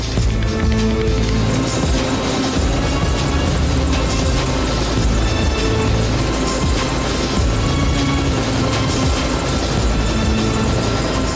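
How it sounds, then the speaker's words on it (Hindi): A helicopter thunders loud and close with continuous rotor chop and turbine whine, steady throughout as if flying in nearby to land, with no voices. "हेलीकॉप्टर की आवाज।"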